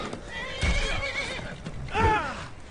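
A horse in the Skyrim video game whinnies twice during combat, loud and close, with hoofbeats and clattering between the calls.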